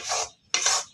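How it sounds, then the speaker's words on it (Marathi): Dry flour for methi ladoo being stirred and roasted in a pan gives two close rasping, scraping strokes, each about a quarter-second long, with a short pause between them and no voices. "पीठ भाजून घेऊया."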